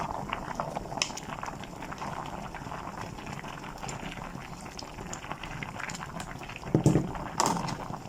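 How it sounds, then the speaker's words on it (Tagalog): Chicken macaroni soup boils in a pot, a steady bubbling and simmering that runs close and continuous, with a few sharper clinks and splashes near the end. "So, ayan, kumulo na siya."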